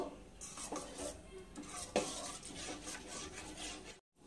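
Spice paste for fish curry, made with yogurt, being stirred and fried in a pan, with soft continuous scraping and faint sizzling and a sharper clink of the utensil partway through.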